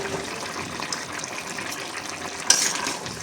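Tilapia fish pieces go into a simmering bitter gourd curry, a soft steady bubbling hiss with a brief splashy plop near the end, close by and with no talking.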